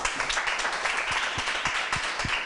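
A live audience applauds at a French-language game show, a dense, steady wash of clapping with a few louder, sharper claps standing out, no voices over it.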